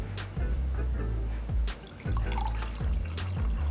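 Bio Mineral Plus spring water poured in a home kitchen, a close, steady liquid trickle with a few soft splashes and drips.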